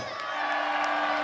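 A crowd cheers and applauds a rider at a race final in Haaksbergen, a continuous roar of whoops and clapping with a voice talking over it throughout.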